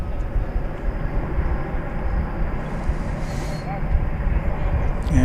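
A wide-body airplane at Dallas Fort Worth airport produces a steady, loud engine roar and rumble that stays continuous throughout, rising slightly at the end.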